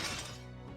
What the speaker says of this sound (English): The sound of shattering glass is drowned out by the cheers of the rising crowd